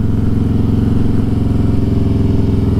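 Motorcycle engine running steadily under load while riding, a loud, continuous close-up drone with a strong low rumble and no break throughout.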